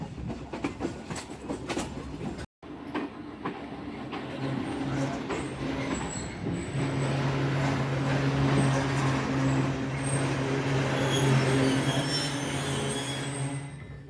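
A train rolls steadily toward the small Shri Rampura station on the Narowal section, with a continuous wheel-and-carriage rumble, faint clickety-clack and a brief dropout near the start, loud and close throughout.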